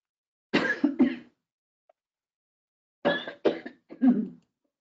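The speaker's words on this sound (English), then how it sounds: "Sorry about my cough." Two bursts of harsh coughing from a presenter, first a pair of coughs, then after a pause three more, close to the microphone in an otherwise quiet room.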